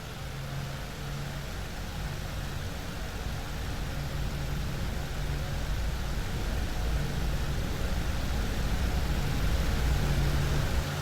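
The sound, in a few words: DCS P-51D engine starting in flight simulator video game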